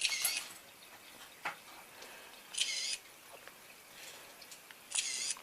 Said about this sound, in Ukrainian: переходимо і робимо фото